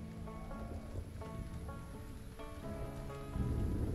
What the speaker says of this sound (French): Il pleut une bouillie, c'est la fête à la grenouille.